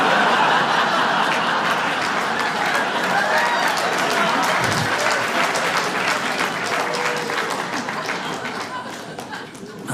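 Comedy-club audience breaks into steady applause mixed with chuckles and laughter, holding strong for several seconds before tapering off toward the end.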